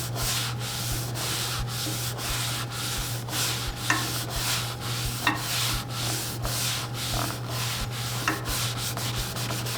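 Finishing oil rubbed by hand onto turned cherry wood from a segmented turning, a steady run of rhythmic scrubbing strokes over a constant low hum, close and fairly loud, with no voices.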